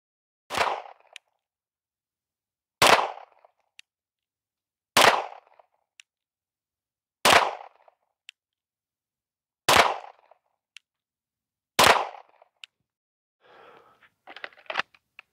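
Pistol fitted with a SIG Romeo 2 optic and X300 light firing six loud, sharp shots at steady intervals of about two seconds outdoors, each with a short decay, followed by faint rustling.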